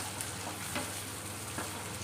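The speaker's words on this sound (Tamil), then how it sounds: "எல்லாம் ஒன்றா சேர்த்து மிதமான தீயில் வதக்கிக்கிட்டே இருக்கணும்." Green peas sauté with other ingredients over a medium flame for paneer pulao, producing a faint, even sizzle with a couple of soft stirring scrapes and no voices.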